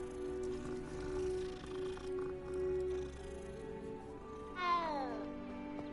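Cat meowing inside the video game Hogwarts Legacy, a short rising meow near the end over steady game music and ambience.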